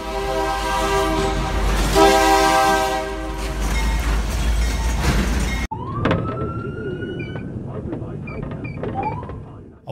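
A railway locomotive sounds a loud, sustained multi-tone horn as it rushes past at a crossing. The sound cuts off abruptly partway through, giving way to quieter road and vehicle noise.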